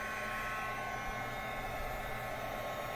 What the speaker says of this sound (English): so let me just heat up this heat tool